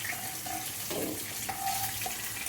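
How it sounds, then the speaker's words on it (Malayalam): Tap water runs steadily into a sink while chicken pieces are washed, a soft continuous splash with a few light clinks and bumps of handling. "നമുക്ക് കഴുകി ഇങ്ങനെ എടുക്കാം കേട്ടോ"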